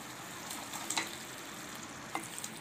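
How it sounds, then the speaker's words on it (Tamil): Potato masala with tomato and onion frying slowly in a pan, a soft steady sizzle with a couple of light stirring scrapes, close and quiet. "அப்படியே ஸ்லோவில் வச்சு இந்த மாதிரி ஃப்ரை பண்ணுங்கள்"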